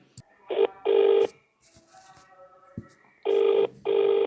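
A telephone rings in a steady double-ring pattern, two pairs of tones separated by a quiet pause, clear and fairly close.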